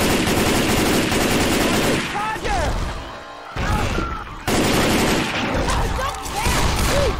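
Left 4 Dead 2 gunfire rattles in loud, sustained automatic bursts, with brief pauses between volleys and heavy impact noise throughout.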